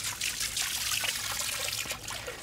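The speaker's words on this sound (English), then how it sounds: "I'll use the hose water to kind of stir it up a little bit" Water from a garden hose pours steadily into a newly built frog pond, a close, continuous splashing and trickling with no voices.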